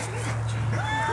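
A dog whimpers and yips in short, high, wavering whines, close by, with a low hum underneath.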